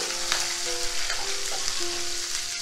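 Mustard seeds, urad dal and chana dal spluttering in hot oil for rava moong dal upma, a steady loud sizzle broken by scattered sharp pops, with no voices.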